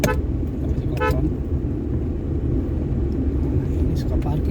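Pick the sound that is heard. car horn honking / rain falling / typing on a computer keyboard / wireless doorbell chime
car horn honking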